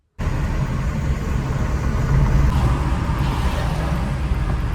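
A motorcycle engine starts and then runs steadily at close range, a continuous loud low rumble with no speech, after the bike has been washed.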